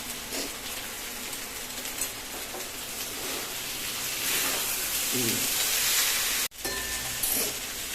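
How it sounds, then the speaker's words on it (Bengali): Spices fry in oil in a pan for a potol (pointed gourd) curry, a constant, close sizzling hiss that swells slightly, broken briefly by a sudden cut. "মশলাটা একটু ভাজা হোক"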